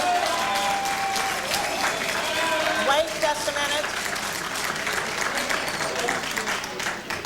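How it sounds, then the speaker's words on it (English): A crowd applauds loudly and continuously at a 1996 town hall meeting in South Central Los Angeles with the CIA Director. Shouts and a voice over a microphone cut through the clapping. "The more you applaud, the more we will use up the time here."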